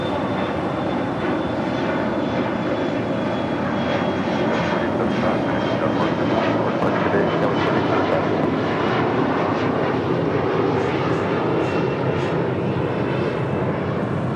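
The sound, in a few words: United Airlines Boeing 737 MAX 9 jet airliner at LAX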